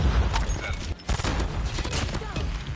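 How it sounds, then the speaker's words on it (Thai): A gun turret firing in Call of Duty Mobile gives rapid, steady bursts of loud gunfire that continue with only a brief gap. "ป้อมปืนผมยิงอยู่อ่ะเพื่อน"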